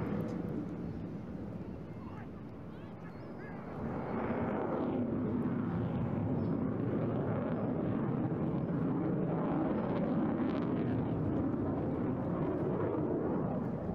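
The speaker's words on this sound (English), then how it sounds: "Now you can hear the throttles coming off a little bit, going into a very slow barrel." A distant Eurofighter Typhoon jet engine roars steadily at an airshow display, the broad rumble dipping slightly as the throttles come back before swelling to a sustained, even drone that fills the rest of the stretch.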